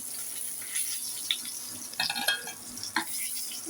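Pointed gourd and potatoes fry in hot oil, a steady soft sizzle with a few scraping stirs and clinks of a utensil in the pan, no talk.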